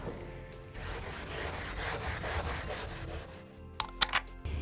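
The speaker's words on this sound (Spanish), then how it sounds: "Pasamos un paño y de esa forma vamos quitando todos los restos que haya." Cloth rubbed firmly back and forth over a rustic wooden table to wipe off residue, a continuous close scrubbing rasp that ends with a few sharper knocks and scrapes, no talking.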